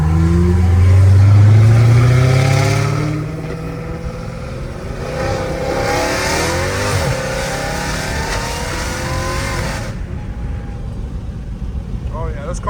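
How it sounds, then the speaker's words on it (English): A Dodge Hellcat Redeye with a fully catless exhaust revs hard and loud at close range, with a deep, roaring burst that settles into a sustained rumble under wind buffeting. "Oh yeah, this car sounds crazy."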